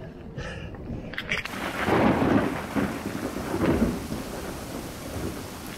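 Thunderstorm in the Pyrenees mountains, with heavy rain pouring steadily and deep thunder rumbling and swelling loudly through the middle, with a sharper crack near the start.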